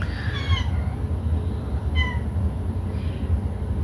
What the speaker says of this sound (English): I was saying my cat's meowing at the door.